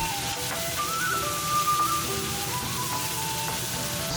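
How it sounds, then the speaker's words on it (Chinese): Ginger and garlic with dried chilies and Sichuan peppercorns stir-fry in hot oil in a wok, a steady, bright sizzle with crackling spatter that continues evenly throughout. "下姜蒜米，少许翻炒"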